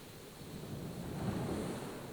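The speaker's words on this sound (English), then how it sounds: "Oh, waves. Wave sounds." Ocean surf washes in as a steady, broad rush, with a low swell that builds toward the middle of the clip. It plays alone with no voices.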